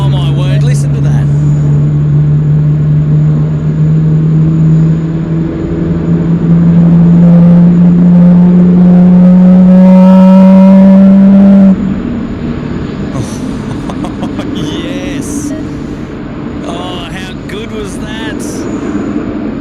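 An American Boeing 777-300 with big GE engines powers up on departure from Sydney Airport bound for Los Angeles, a loud sustained roar with a rising tonal whine that cuts off abruptly, followed by a lower rumble as people talk nearby.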